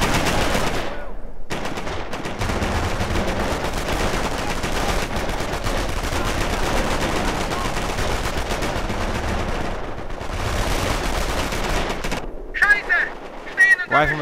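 Video game battle between pioneers and engineers, with dense, continuous gunfire and machine gun bursts rattling loudly for most of the stretch before briefly thinning into scattered shots near the end.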